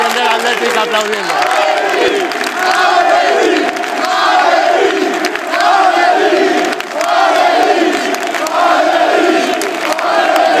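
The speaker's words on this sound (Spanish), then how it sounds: "La afición del Atlético aplaudiendo." A dense stadium crowd of Atlético football fans cheers, chants and applauds continuously and loudly, a roaring wall of voices that swells and dips.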